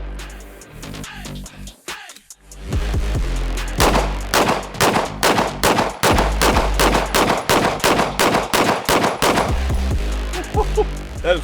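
Rapid gunfire from a resurrected firearm shooting Blazer ammunition, loud and close, with shots coming in quick, slightly uneven strings over several seconds.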